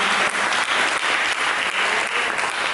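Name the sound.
congregation applause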